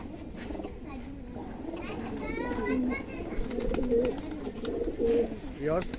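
Teddy pigeons cooing softly nearby, repeated low burbling calls over a quiet background with faint voices.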